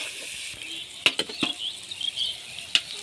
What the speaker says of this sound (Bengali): এটাকে একটু হালকা করে ভেজে নেব